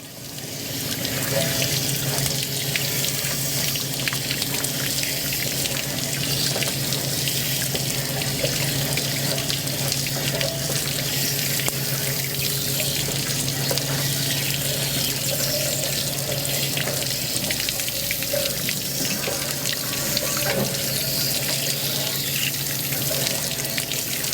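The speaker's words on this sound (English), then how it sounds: "I've just turned it on, and I'm flushing all around." Water rushes steadily from a suburban RV hot water tank as sediment and lime are flushed out, a loud continuous splashing stream with no pauses.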